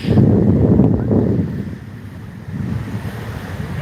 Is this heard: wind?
yes